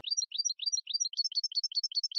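A caged goldfinch at a singing contest sings alone, loud and close, in quick repeated bright trilled chirps with short gaps, the phrases speeding up into a steady run of twittering notes.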